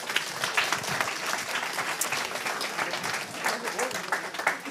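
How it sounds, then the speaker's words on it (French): Audience at a French digital-health conference session applauds steadily for several seconds, a dense, even patter of clapping heard from within the room at moderate level. "On peut les applaudir."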